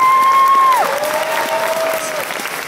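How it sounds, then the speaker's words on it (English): Steady applause from an audience at an anime convention closing ceremony fills the space as a warbling electronic tone slides down and holds underneath. "Give a big round of applause to Victor, guys."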